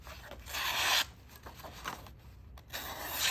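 A Ganzo Adimanti Skimen Shadow knife blade slices through material in short, close rasping strokes, a few quick cutting swipes separated by brief pauses.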